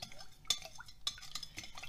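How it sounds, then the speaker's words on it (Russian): A teaspoon of salt stirred into warm water in a bowl for cheburek dough: faint close clinks and scrapes of a spoon against the bowl, a few sharper taps amid quiet swirling. "Размешаем"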